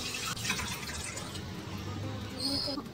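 Cold water pours briefly into a bowl with eggs, a short splashing trickle close by, fairly quiet, with no voices.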